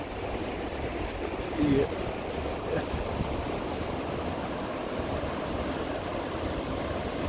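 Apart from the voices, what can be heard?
Ganga river flowing near Gaumukh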